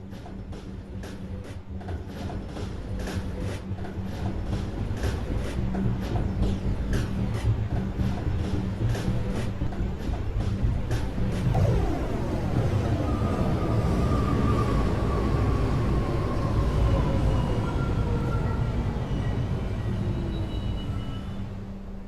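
New York subway local train pulling into Rector Street station, a steady close rumble with rhythmic clicking early on, then rising and falling screeching brake tones as it slows, no voices.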